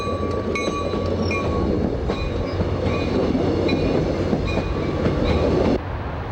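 A train passing the busy Scott Street interlocking, with frequent GO trains and freight movements, a loud continuous rumble of railcars with repeated rhythmic wheel clicks and brief metallic squeals, close by, easing off slightly near the end.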